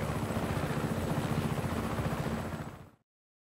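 Helicopter in the video game Just Cause 3, a loud close continuous rotor thump and engine roar that cuts off abruptly near the end.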